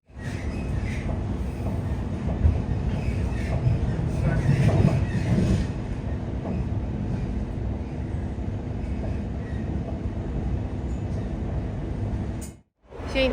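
An Amsterdam metro train pulls into the station, a loud, sustained rumble of wheels and rails that fills the whole stretch before cutting off abruptly near the end.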